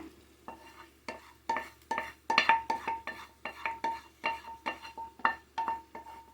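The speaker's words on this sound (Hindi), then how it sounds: "इसको आपके सामने मिक्स करूंगी और भूनूंगी" Karela stuffing being stirred and fried in a pan: a spoon scrapes and clinks against the metal pan in a steady, repeated rhythm over a soft, continuous sizzle, all close up and with no talking.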